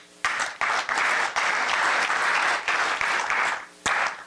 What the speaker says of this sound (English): So I think he deserves a huge round of applause.